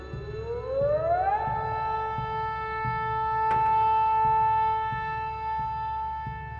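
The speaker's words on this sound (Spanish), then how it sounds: "la sirena volvió a sonar" A siren sounds alone, rising steadily in pitch over about a second and then holding a loud, sustained wail, with a low rumbling background underneath.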